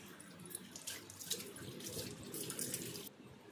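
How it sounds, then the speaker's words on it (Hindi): A household sink tap runs steadily for a few seconds while face and hands are washed under it, with splashes and the flow rising and falling close by and no talking. "उसके बाद मैं अपना मुँह हाथ धो लूँगी"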